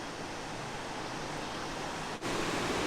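Big Spring at Van Buren in the Ozarks pours a large volume of water out from the base of a bluff, a steady broadband rushing roar, with a brief dip near the end before the flow resumes.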